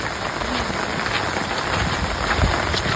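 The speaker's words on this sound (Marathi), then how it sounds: "आता लई पाऊस पडतो" Heavy rain pours steadily in a dense, even hiss with scattered drops spattering nearby, constant and loud with no voices.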